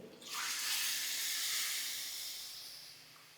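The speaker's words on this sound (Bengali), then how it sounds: "এই জলটা কিন্তু আগের থেকেই একটু গরম করে রেখেছিলাম। এই জলটা এবার এর মধ্যে আমি দিয়ে দেবো।" Pre-heated water poured into a pan of sizzling Kashmiri dum aloo made with new potatoes, a loud rushing hiss of steam that bursts in at once and fades slowly over a few seconds.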